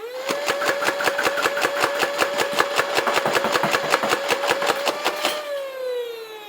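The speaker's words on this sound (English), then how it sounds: "All right, let's actually fire some darts." A motorized Nerf Vulcan blaster fires foam darts in a rapid, evenly spaced burst of about twenty sharp clacks over a steady electric motor whine, close and loud, then the motor spins down alone.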